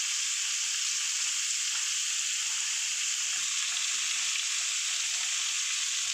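Grated coconut sizzles in a hot pan for a mixed vegetable mung dal, giving a steady, even frying hiss that holds at the same level throughout with no talking.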